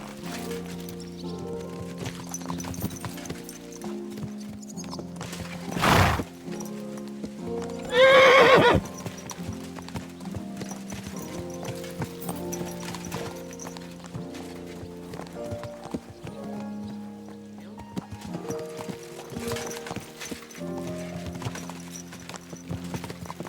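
Horses galloping in the video game Kingdom Come Deliverance II, steady rhythmic hoofbeats carrying through a long stretch under game music, with a couple of loud whinnies breaking in partway through.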